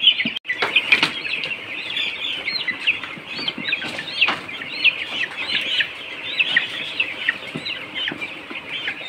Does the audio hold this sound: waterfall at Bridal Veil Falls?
no